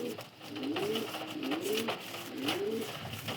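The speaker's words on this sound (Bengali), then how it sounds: "একটা ফুলছিরা কালদম অ্যাডাল্ট নর" Adult male pigeon, a black-feathered bird offered for sale, cooing close by in repeated rolling, swooping calls at a steady rhythm, clear and alone against a quiet background.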